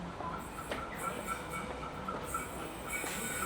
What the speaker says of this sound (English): Oh, I hear a train. The train's here.